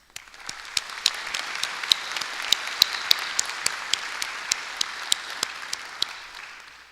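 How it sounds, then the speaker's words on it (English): An audience at the opening of a combustion symposium applauds the editors with sustained clapping, and sharper individual claps stand out against the steady roar of the room. "a round of applause is in order, and please join me in this"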